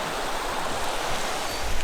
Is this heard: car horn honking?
no